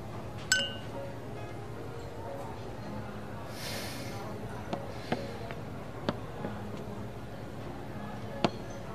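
At a dinner toast among colleagues, glasses meet in one clear clink, followed by a few fainter taps and pings of tableware amid quiet voices.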